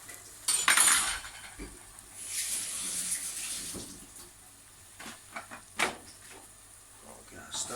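A utensil stirs tomatoes and onions in a frying pan for cannelloni sauce, with quiet scraping and clinks of metal against the pan.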